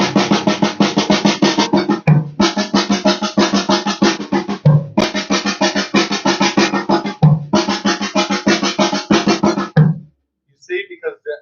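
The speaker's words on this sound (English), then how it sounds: "We're going to do the accents on the toms and all the diddles on the snare drum." A drum pattern with accented strokes on the toms and rapid double-stroke diddles on the snare, played up close and loud in four even repetitions of about two seconds each before stopping.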